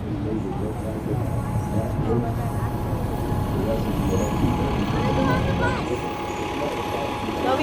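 A San Francisco city bus passes on the street, a steady loud rumble of engine and traffic noise that holds throughout, with a faint tonal whine above the roar.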